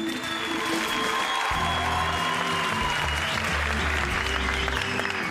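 A crowd applauding, dense steady hand clapping that stays loud and continuous throughout, with some murmuring voices and a faint tone mixed in the background.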